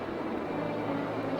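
An airplane flying overhead in a classic sci-fi adventure film, a steady broad droning roar that holds at an even level through the whole moment with no voices over it.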